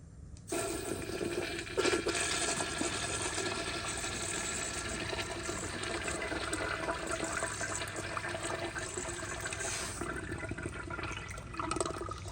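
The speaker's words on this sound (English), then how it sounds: "I'm just going to let it flush until it takes the rest of those leaves down" A 1997 Kohler Dexter urinal flushing continuously to wash leaves down, a steady rushing water flow that runs close and loud for over ten seconds before easing near the end.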